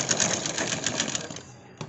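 A sewing machine stitches a patch onto a kurta, its close, fast, even needle rattle running continuously before slowing and stopping near the end.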